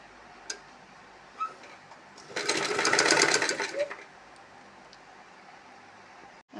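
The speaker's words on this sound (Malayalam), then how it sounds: "ഈ ഭാഗം നമുക്കൊന്ന് സ്റ്റിച്ച് ചെയ്ത് വയ്ക്കാം." Sewing machine stitching a yoke pleated nighty: a close, rapid mechanical burst of stitching lasting about a second and a half amid quiet room tone and a few faint clicks.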